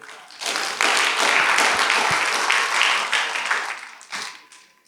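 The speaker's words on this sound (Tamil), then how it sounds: "கைத்தட்டு." Audience clapping at a Tamil Christian sermon, a burst of hand claps lasting several seconds, loud and dense at first, then thinning out and fading.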